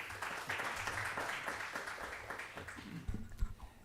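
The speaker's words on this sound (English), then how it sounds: "Rounds of applause." An audience at an Islamic psychology symposium applauds, a soft, sustained patter of clapping from a hall that tapers off near the end.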